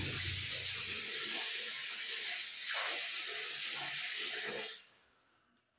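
Water runs steadily from a tap for a morning bath, a continuous close rush that cuts off near the end, followed by brief quiet.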